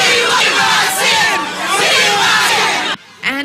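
A loud crowd shouts and chants in a rough, surging roar as police push it back from an entrance, the noise cutting off abruptly near the end before a single voice rises.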